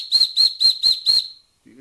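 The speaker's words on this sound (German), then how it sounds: "wir haben auch eine schöne Pfeife montierte neue" A Wilesco D24 electrically heated toy steam engine's steam whistle, running at about 1 to 1.5 bar, sounds five shrill, evenly spaced toots, close and loud, with the last blast held a little longer before it fades.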